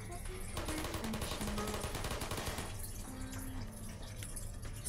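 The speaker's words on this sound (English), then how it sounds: "We're being ambushed by turrets here." Turrets in the video game Portal fire rapid, machine-gun-like bursts of gunfire in a steady rattle for a few seconds, with short electronic tones and blips mixed in.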